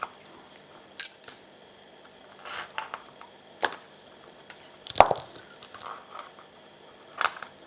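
Scissors cutting thread: scattered sharp snips and clicks, several separate cuts spaced irregularly over quiet, close and fairly soft, with no talking.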